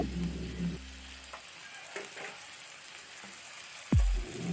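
Tomato paste fries into a chicken curry with a soft, low crackle, broken by a few scrapes and a sharp clunk of a utensil against the pan near the end; no talk.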